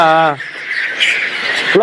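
A Maharashtra wild chicken lets out harsh, raspy squawks close by, starting with a tonal cry followed by rough, noisy calls, while a person talks nearby.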